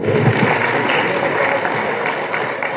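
Audience clapping at a student prize distribution ceremony, a dense continuous patter of hands from a hall crowd, loud and steady throughout with a few voices mixed in.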